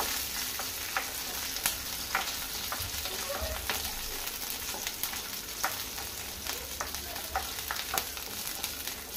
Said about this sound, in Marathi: आमचे हे ग्रीन चिलीज घातलेले आहा. बरें ताका फ्राय करून घेवया